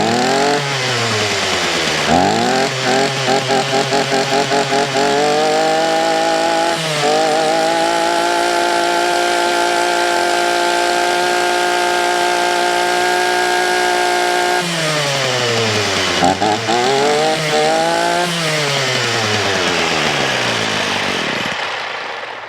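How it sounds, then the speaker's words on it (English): A Mountfield petrol strimmer engine running, a loud buzzy two-stroke drone close by, revved up and down several times with a long steady high-speed stretch in the middle. "So it starts, stops, it runs, head spins,"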